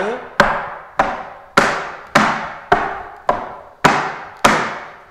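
Tap dance shoes striking a hard floor, eight crisp, evenly spaced taps about half a second apart, each one sharp and ringing briefly, close and alone.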